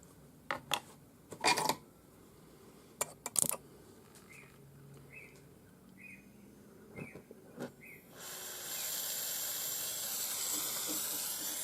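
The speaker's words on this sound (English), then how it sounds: "So we'll dry out the flux, keeping the flame just up on the top." A jeweller's torch flame drying flux on a ring, starting after a few sharp metallic clicks and taps and then becoming a steady, close hiss that lasts several seconds, with no voices.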